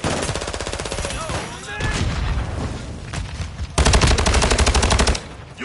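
Loud, sustained automatic gunfire in a shooter video game, rapid evenly spaced rounds in long bursts with a brief lull midway and a heavier stretch near the end, close and dominant.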